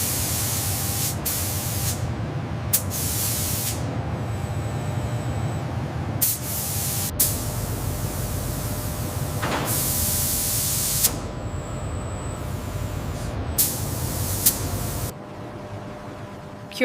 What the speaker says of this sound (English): Multi-axis spray arms apply a thin,